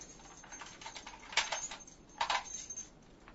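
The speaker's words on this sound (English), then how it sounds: "Now lock it." A key turns in a door lock, giving small metallic clicks and two brief sharper clacks, close and quiet with no talking.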